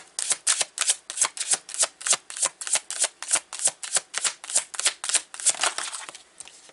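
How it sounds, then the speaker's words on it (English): Tarot cards riffled and drawn from a deck, a fast regular train of about twenty crisp close snaps and flicks, loud and alone. "We're going to pull 3 cards here."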